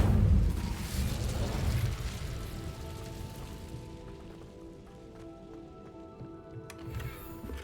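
An Incendio fire spell in the Hogwarts Legacy video game bursts with a loud whooshing blast, then crackles and hisses down into a softer rain-like patter with faint tonal game ambience.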